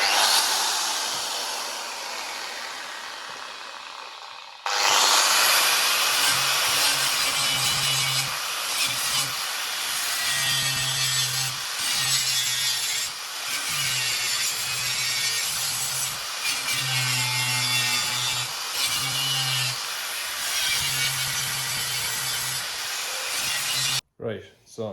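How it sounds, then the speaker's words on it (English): Grinding down a weld seam on a rusty Toyota Corolla exhaust pipe, a loud continuous abrasive whine with steady tonal hum and brief dips as the tool shifts, running for about twenty seconds before stopping. "So well, let's get to grinding in here."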